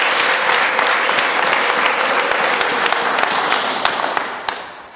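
A church congregation applauds with dense, sustained clapping that stays loud and even, then fades away over the final second.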